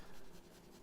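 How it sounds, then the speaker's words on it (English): Graphite 4B pencil shading on drawing paper, a soft continuous scratchy rasp with gentle back-and-forth strokes, close and steady throughout. "I'm actually laying down with a 4B pencil here"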